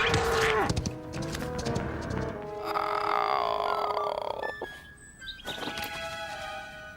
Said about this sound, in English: Have you ever heard such a roar? Oh, some cow.